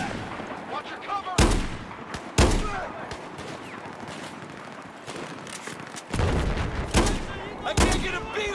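Battlefield 4 combat: loud, close bursts of gunfire and heavy booming shots strike in clusters, separated by quieter stretches of background battle noise and scattered shouting.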